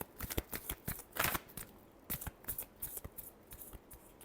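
Tarot cards being shuffled by hand in a string of quick riffling and flicking bursts, close and fairly quiet, with one longer riffle in the middle and no talking.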